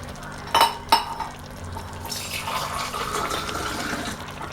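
Two sharp clinks of a metal cooking pot, then half a tumbler of water pouring steadily into it with a rushing, filling sound lasting a couple of seconds.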